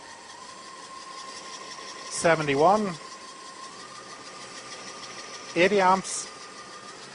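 A car engine runs steadily with its alternator under load, a constant mechanical hum that holds through the clip while a voice reads out current figures at two points.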